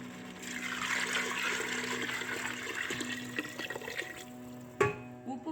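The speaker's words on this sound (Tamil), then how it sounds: "அதுக்கு 9 கப் தண்ணி ஊற்றுறேன்." Water pours steadily into a cooking pot for rice in a home kitchen, a soft continuous splashing fill that tapers off, followed by a sharp clunk near the end.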